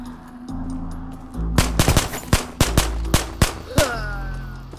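Pistol shots fired in the game Ghosts of Tabor: a loud, close string of about eight sharp reports at uneven intervals, with a low background hum between them.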